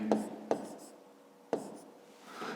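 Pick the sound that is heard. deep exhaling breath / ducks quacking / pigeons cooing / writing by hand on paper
writing by hand on paper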